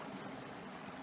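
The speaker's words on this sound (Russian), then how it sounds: "Вот слышно шум падающей реки" Rushing river water echoes inside a rocky grotto with hanging icicles on the Pine Creek hike in Zion, a steady broadband wash that stays constant and fairly soft, with no voices.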